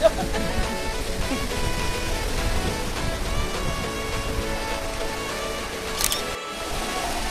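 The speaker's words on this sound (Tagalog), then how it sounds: "May patak-patak na ng ulan." Steady rain patters continuously nearby at a beach and pool in Zambales, Philippines, a dense hiss of drops with a brief louder splash near the end.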